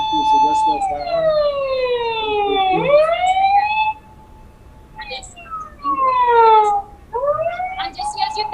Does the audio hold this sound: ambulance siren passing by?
yes